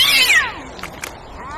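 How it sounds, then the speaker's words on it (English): A single cat meows loudly up close, a long descending cry, followed by a couple of brief fainter sounds. "It's only a cat."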